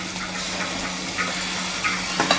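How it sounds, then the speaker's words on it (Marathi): Water poured into a pot of curry makes a continuous close splashing rush that stays fairly even throughout, with a few slightly louder gurgles. "तर आता याच्यामध्ये मी थोडंसं पाणी घालून घेते"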